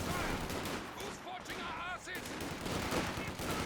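Battle din from Company of Heroes 2 with MG42 machine gun fire as riflemen flank the emplacement, dense continuous gunfire and explosions under a commentator's voice.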